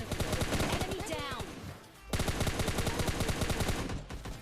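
Rapid automatic gunfire from a PUBG Mobile Lite match, two dense bursts of loud close shots separated by a brief lull, with other game sounds mixed underneath.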